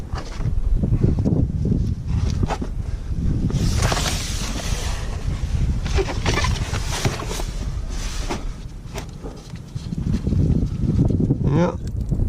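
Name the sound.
wind blowing outdoors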